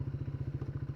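A Triumph Speed 400 motorcycle idles close by, its single-cylinder exhaust thumping in an even, steady pulse throughout, loud and alone with no voices.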